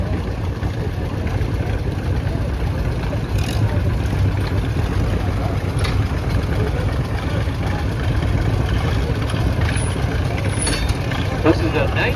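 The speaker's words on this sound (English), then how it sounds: "I think he's ready with his John Deere 50." A 1954 John Deere 50 antique tractor engine during a tractor pull at a county antique equipment show, a loud continuous low rumble throughout, with announcer speech mixed in.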